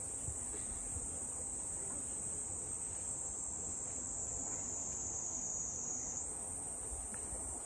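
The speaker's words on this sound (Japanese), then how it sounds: "このセミの声と" Cicadas droning in a summer park playground, a steady high-pitched buzzing chorus filling the whole stretch, constant and fairly prominent with no talk.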